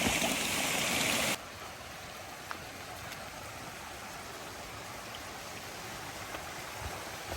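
Rushing water from streams and waterfalls along a trail, a steady broadband wash heard nearby. It is loud at first, then settles to a softer continuous flow.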